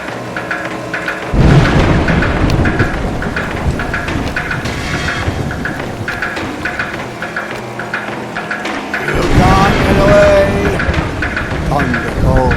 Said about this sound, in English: Thunder calls through the woods.